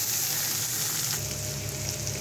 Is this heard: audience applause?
no